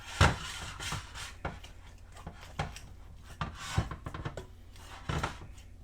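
Pizza dough is mixed and scraped around a bowl with added flour, giving soft, irregular scraping and rubbing strokes with dull thuds, close and fairly quiet, without speech.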